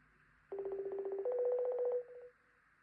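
Telephone keypad tones while calling someone back: a quick run of short beeps, then a steadier held tone lasting over a second before cutting off, clear and close with no talk.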